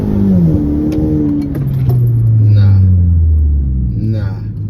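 A Kia Optima SX TGDI accelerates from a takeoff, its engine note sweeping down and rising again as it pulls through the gears, loud and close, with a voice talking over it.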